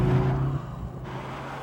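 A heavy Jaguar saloon of over 4,000 pounds accelerates hard from a standstill toward 100 km/h, its engine note loud and close for a second before settling into a steadier drone.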